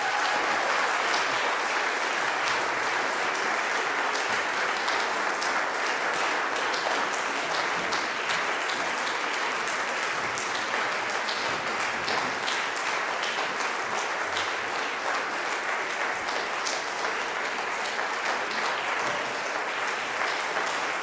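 Dense, steady audience applause fills the hall after a church choir concert of spirituals, with loud, continuous clapping from a large crowd that holds without letup for about twenty seconds.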